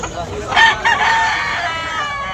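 A rooster crows loudly nearby at a Cebu poultry market, a long drawn-out call with a couple of rising bursts at the start, over faint background noise.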